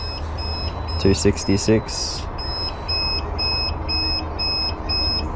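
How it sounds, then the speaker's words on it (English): Short, high electronic beeps repeat at a regular pace while a swollen 280Ah EVE battery cell is stress tested, over a steady background hum, with someone briefly speaking partway through. "Sorry about all the beeping."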